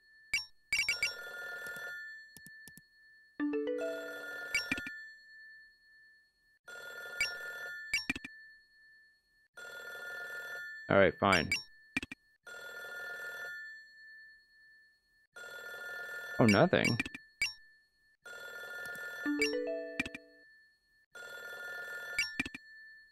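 Telephone in the video game Sakura Sakura ringing repeatedly in regular electronic bursts with short gaps, while someone talks briefly between the rings.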